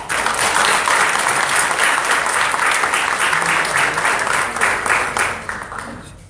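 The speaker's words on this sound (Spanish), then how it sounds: "Vamos a escuchar a Tamara, para quien les pido un fuerte aplauso" An audience at a Spanish-language book presentation breaks into sustained, dense applause that stays loud for several seconds and then begins to fade at the end.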